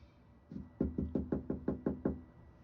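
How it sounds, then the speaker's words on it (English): Knocking on an apartment door: eight firm, evenly spaced knocks in a quick steady rhythm, close and clear against a quiet background, with no talking. "Stop knocking on the door"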